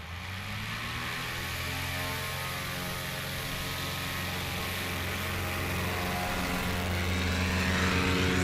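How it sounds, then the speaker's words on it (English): A small plane takes off at a STOL short takeoff and landing competition in Ontario, Oregon, its engine and propeller drone steady and harmonic, growing slightly louder toward the end. "that was a great takeoff by Mark."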